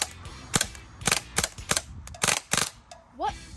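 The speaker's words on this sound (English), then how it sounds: "Dude, that's shooting full auto?" An HK 416 six-round burst BB gun fires on full auto in quick sharp cracks, clustered close and loud, with a voice reacting briefly near the end.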